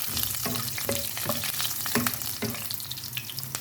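Ginger and garlic for escabeche fry in hot oil, making a loud, dense crackling sizzle, with a utensil stirring and tapping against the pan throughout.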